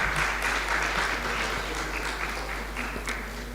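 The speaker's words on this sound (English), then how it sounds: "let's give them a round of applause" Audience clapping at a Ghanaian business and fashion summit launch, a continuous crowd applause heard at some distance over a low hum, gradually easing slightly in strength, with a few sharper claps poking out.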